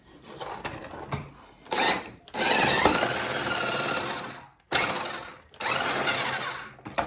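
An RC drift car's front wheels rub slightly as it runs, giving a loud whirring, scraping motor sound in several sustained bursts separated by short gaps.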